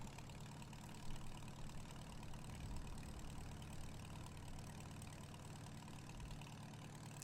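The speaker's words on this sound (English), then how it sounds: "That's a real on-the-farm tractor." A farm tractor's engine idles steadily nearby on a working farm, a continuous low rumble with a mid-range drone that holds at an even level throughout, with no talking.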